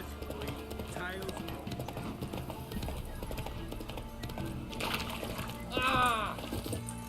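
Hooves of the horse Roach clip-clop in a quick galloping rhythm in The Witcher 3, with a neigh, splashing and game effects, under a player talking over the action.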